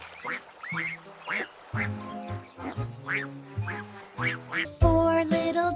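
Ducks quack in a sung nursery rhyme, with repeated nasal quacks over a musical backing and a brighter, louder passage near the end.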